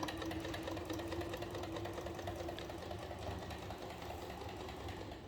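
Sewing machine stitching a paramotor cover, a steady mechanical whir with rapid stitching rhythm running continuously at moderate volume.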